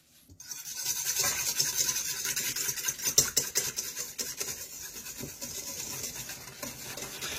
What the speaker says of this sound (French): on va venir mélanger donc, les 2 œufs avec le sucre